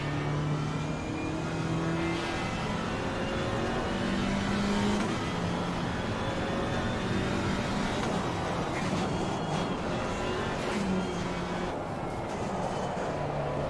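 GT4 race car on an out lap at Silverstone in a racing sim game, a steady engine drone with gear changes and rising and falling revs, constant and fairly loud.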